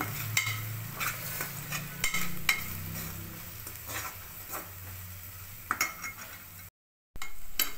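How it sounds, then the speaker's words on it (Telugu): Brinjal masala for bagara baingan, with salt and chili powder in oil, is stirred with a spoon in a pan: repeated close scrapes and clinks over a sizzle, with a short silent break near the end. "కారం యాడ్ చేసుకోండి. బాగా మిక్స్ చేయండి."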